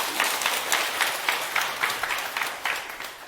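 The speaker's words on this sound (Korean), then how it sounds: "네, 박수." A small lecture audience claps together, a moderate patter of hands with a few stronger beats, steady and fairly close for a few seconds.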